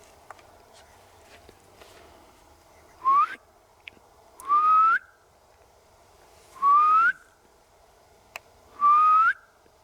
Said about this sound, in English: I'm going to do a whistle.